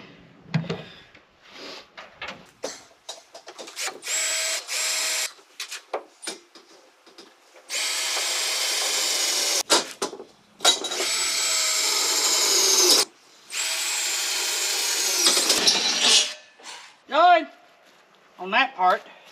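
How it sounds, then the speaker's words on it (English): A power drill bores into wood in a home shed during bed building, running in three long, loud, close bursts with a winding-down whine at the end, while someone talks between and around the drilling. "still got to do more drilling"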